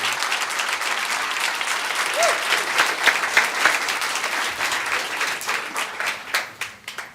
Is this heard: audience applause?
yes